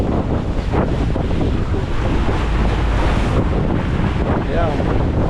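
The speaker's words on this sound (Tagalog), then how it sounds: "ang lakas ng hangin dito" Strong wind buffets the microphone aboard a boat crossing to Cebu, a loud, continuous roar with steady rushing and gusting and the wash of water beneath it, with no let-up throughout.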